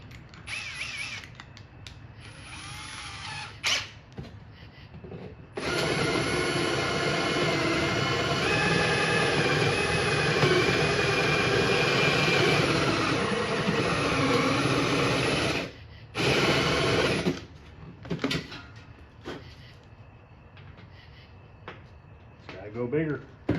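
A drill bores holes for a light-up bar sign, running in a long steady whine with a stop, then shorter bursts, while a person talks in between.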